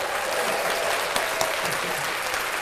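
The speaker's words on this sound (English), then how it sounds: "Let's clap that up." Steady applause from a live show audience fills the space, a dense even wash of clapping with a couple of sharper claps standing out, no voices over it.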